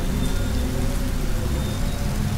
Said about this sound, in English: What are you doing out here in the pouring rain at this time?